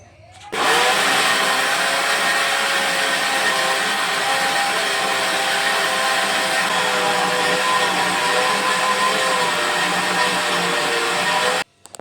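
A mixer grinder running continuously at full speed while grinding grain into flour powder, a loud, steady high-pitched motor whine that starts abruptly and cuts off near the end.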